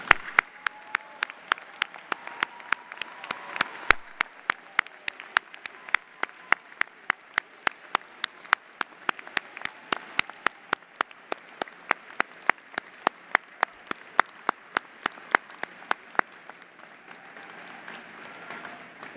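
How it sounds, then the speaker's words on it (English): Graduates at a University of Oklahoma commencement applauding together, a quiet, distant wash of many hands with sharp, regular clicks running alongside. "Graduates, would you please stand and applaud the family members, friends, faculty, and staff who have brought you to this milestone."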